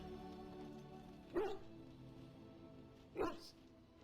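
A dog barks in Dragon Age: Origins, two short, sharp woofs a couple of seconds apart over a steady game background hum.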